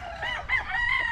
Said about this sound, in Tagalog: O, gandang manok nito.